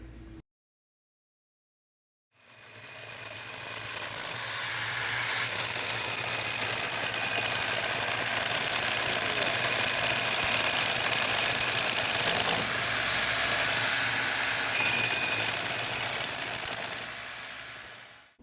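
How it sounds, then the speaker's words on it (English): A loud, sustained mechanical drilling grinds on for many seconds after a short silence, boring through sand, rocky inclusions and concrete to reach ice in a test rig, with rattling vibration and slight shifts in pitch. "we drilled through 6 inches of dirt and sand and 4 inches of concrete to reach the ice beneath"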